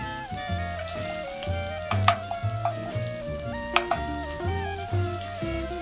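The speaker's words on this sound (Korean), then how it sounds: "양파를 넣어서 다시 볶아줍니다." Onions and garlic stir-frying in a pan, with a continuous close sizzle, clinks of a utensil against the pan and soft background music.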